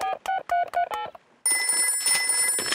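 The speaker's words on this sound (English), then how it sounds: "I'll phone Grandpa Pig." A quick run of electronic keypad beeps, about six short tones in succession, followed by a steady high ringing or connecting tone, in a Peppa Pig cartoon.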